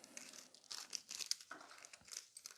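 Thin nail art foil crinkled and handled at close range, giving soft, irregular crackling and rustling bursts across a couple of seconds, fairly quiet with no talk.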